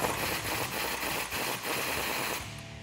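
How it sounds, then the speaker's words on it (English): A 17 mm wrench and socket work a shock absorber bolt tight during a Rough Country 3-inch suspension lift install on a Toyota Tacoma, giving a rapid, steady run of close mechanical clicking and rattling that stops abruptly near the end. "we can tighten down the bottom of our shock absorber as well and lock this in place using a 17 millimeter wrench and a 17 millimeter socket"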